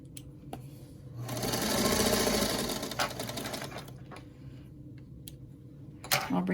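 Sewing machine stitching a quarter-inch quilt block seam, a fast whirring run that builds and fades over a couple of seconds, then softer ticks and handling clicks.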